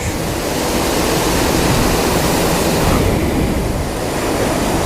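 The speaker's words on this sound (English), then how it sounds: "Actually a fair bit of water moving." Water flows at a waterhole in a loud, continuous rush, close by and unbroken, with no voices.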